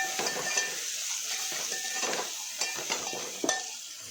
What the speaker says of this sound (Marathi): थोडी हळद आणि चवीसाठी मीठ. पूर्ण हलवून घ्यायचं.